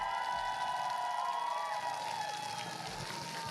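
A crowd cheers at a Splatoon 3 event. The shouts and whoops are fairly faint and distant under a constant tonal hum from the venue.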